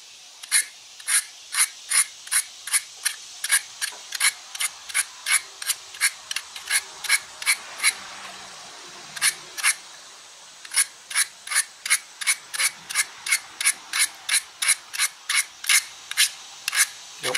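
Zwickey traditional broadhead being sharpened on an Allen broadhead sharpener, a long run of quick rasping scrape strokes in a steady rhythm, briefly pausing midway, close and clear with no talking.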